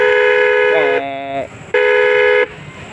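A truck horn fitted to a motorbike blasts loud and close, with two long, brassy, multi-tone honks separated by a short pause and a brief warbling shift in pitch during the first.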